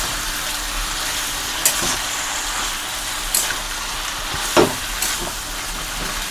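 Mixed vegetables and malabar spinach frying in a pan, a dense continuous sizzle with a few sharp stirring scrapes and clacks of the spatula, close and loud.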